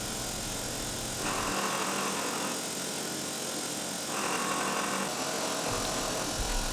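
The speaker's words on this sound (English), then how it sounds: "I used a 1/4 inch drill to drill the pilot holes for the cutter head" A 1/4 inch drill whines steadily in short bursts, boring pilot holes in a cutter head, with a constant mechanical hum running underneath, fairly close.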